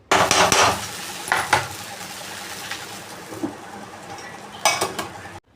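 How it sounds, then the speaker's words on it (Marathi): A plate set over sabudana in a pan gives a few sharp clinks and clatters of metal and ceramic near the start, then a quieter clink of placement and more light rattles later. "आता याच्यावरती ना थोडा वेळ प्लेट झाकून ठेवायचं"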